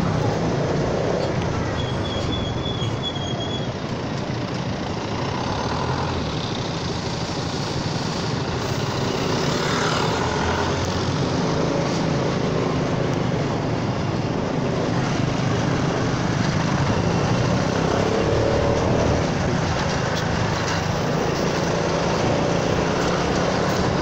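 A Honda Forza 300 scooter rides through a tunnel, its engine a loud, constant, enveloping roar with broad rushing noise that fills the space evenly for the whole stretch, with no talking over it.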